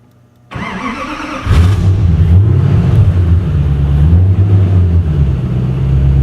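A car engine starts via separate ignition and starter buttons: a click, a short starter crank, then the engine catches and settles into a loud, steady idle with a slight rev, close by.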